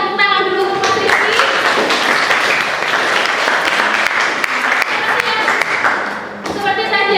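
A classroom group applauds a student, Mas Rizky, during a teaching session: a burst of hand clapping from many people, strong and steady for several seconds, with brief voices at the start and end.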